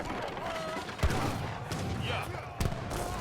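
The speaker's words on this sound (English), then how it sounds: "two falconets popping at the worst possible place" Falconet cannons in Age of Empires III firing two deep booming shots, spaced about a second and a half apart, over a busy battle din with a voice talking throughout.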